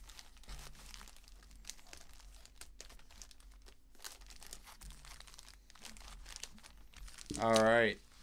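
Foil wrapper of a Japanese Pokémon Matchless Fighter booster pack crinkling and tearing in a brief loud burst near the end, after quiet handling of cards with soft background talk.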